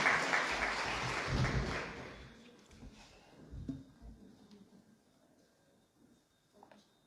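Audience applause welcoming a poet, Uday Shah, to the stage at a literary poetry festival, a loud burst of clapping that fades over several seconds into quieter room sounds and scattered voices.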